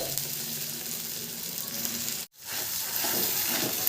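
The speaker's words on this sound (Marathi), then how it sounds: "हे जे आपण सारण केलं आहे ना ते पण जरासं परतवून घेऊया गॅस कमी ठेवायचा" Potato paratha filling is sautéed in a pan over a low gas flame, producing a continuous dense hiss and sizzle that cuts out for a split second and then resumes at full level.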